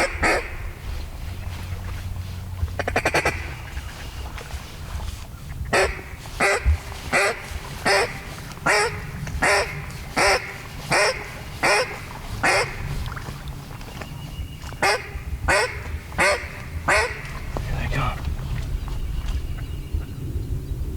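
A group of ducks being worked during a duck hunt produces loud, close quacking in two rhythmic runs of evenly spaced calls, separated by a short pause, over low outdoor rumble.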